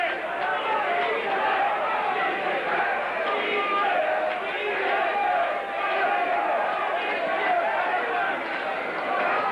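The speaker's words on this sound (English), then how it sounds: "Crowd getting behind Boyle." A boxing crowd roars steadily in support of Boyle at a lightweight title fight, a dense wash of cheering that holds throughout, with a commentator talking over it.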